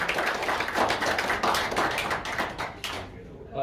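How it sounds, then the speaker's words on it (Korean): An audience at a Korean panel discussion breaks into applause, brisk overlapping claps that fill the room and then thin out and fade near the end. "여러분 박수 부탁드리겠습니다"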